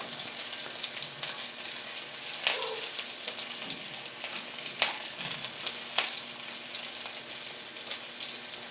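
Onion sizzling in a pan of frying fish, a steady low crackle with a few sharper pops and clatters of stirring scattered through.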